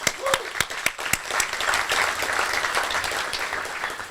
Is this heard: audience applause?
yes